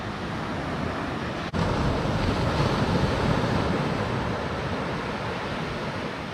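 Surf breaking on a beach at Koh Lanta, Thailand under a cloudy sky, a steady broadband wash of waves with some wind noise, continuous and fairly loud, with a brief dropout early on.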